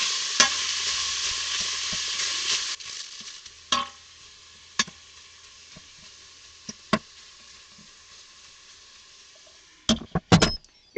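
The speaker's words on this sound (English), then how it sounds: "You're going to hear lots of sizzle" Steady crackling sizzle of bacon frying in an Instant Pot pressure cooker, loud for the first few seconds, then quieter and continuous, broken by a few sharp clanks and knocks of cookware.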